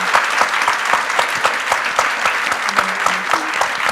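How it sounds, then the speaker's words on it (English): Loud applause from the audience for an education panel, a full and steady clatter of many hands with a rhythmic pulse running through it and no speech. "So one more round of applause,"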